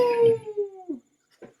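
A dog howls in one long, falling, tonal wail that breaks into a short yelp, then goes quiet before a faint final whimper, close and fairly loud.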